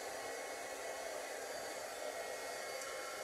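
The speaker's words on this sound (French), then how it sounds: "Avec mon petit fusil chauffant." A steady, loud whoosh of hot air from a small heat embossing gun melting embossing powder on a card, constant and unbroken throughout, with no other sounds.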